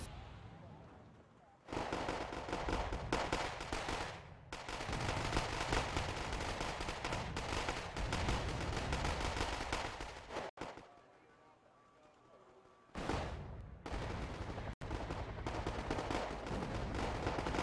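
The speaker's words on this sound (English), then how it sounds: "this really did turn into an artillery fight" Constant artillery and gunfire in the war game Wargame: AirLand Battle: dense, rolling bursts of shots and blasts continue with a brief lull partway through, while someone talks over them.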